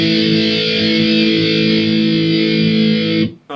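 Distorted electric guitar strums one open chord shape in a quick down-up-down rhythm for a song intro. The chord rings loud and sustained for about three seconds, then cuts off sharply.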